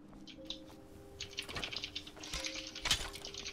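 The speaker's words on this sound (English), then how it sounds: "that's the sound of someone googling it" Fingers tap quickly at a computer keyboard to search something online. The clicks are faint and irregular, grouped in short clusters over quiet room noise.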